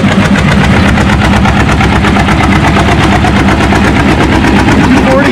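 A John Deere tractor roars at a tractor pull with a loud, harsh, continuous pulsing engine, its rapid staccato rhythm resembling machine-gun fire, steady and close throughout.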